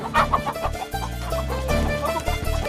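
In a comedy TV scene, a hen clucks in quick repeated bursts while she chases people. The clucks come through loud background music and commotion.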